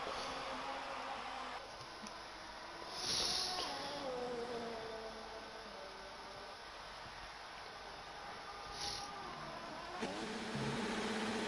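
Formula 2 car in a racing video game, its engine note droning steadily through a double-apex corner and into the final sector, pitch sliding with throttle, with brief bursts of noise.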